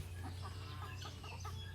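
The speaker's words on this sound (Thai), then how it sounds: "นี่ครับเขาก็จะขึ้นบ้านกันแล้วครับ ไก่ครับ" Brahma chickens cluck softly at dusk on a farm as they settle in for the night, a scattering of quiet clucks over a steady low background hum.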